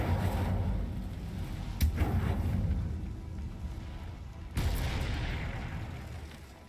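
Incendio fire spell cast in Hogwarts Legacy, heard as sharp bursts with booming attacks near two and four and a half seconds over a rumbling, whooshing bed, no talking.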